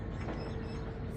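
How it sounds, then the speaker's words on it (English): Heavy weekday morning traffic on a street in Mexico, a steady low rumble of engines rolling past at a moderate distance with no voices over it. "it's a heavy traffic where everyone's getting to work"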